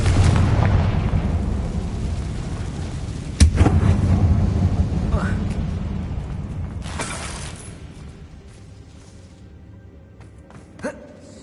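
A Confringo blasting spell goes off in Hogwarts Legacy, a sharp booming crack followed by a rumbling decay, with a faint later pop as the background fades.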